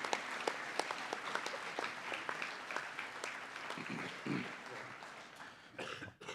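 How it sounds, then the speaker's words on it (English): Applause from a school assembly audience for a student at a senior school assembly, a steady wash of many hands clapping at moderate distance, with a few coughs and a brief murmur near the end. "We might give him a round of applause to our acknowledgement of country."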